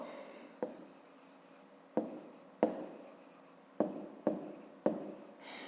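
Handwriting on paper during a Ukrainian fifth-grade maths lesson, heard as close, soft scratchy strokes in short bursts separated by brief pauses, with no talking.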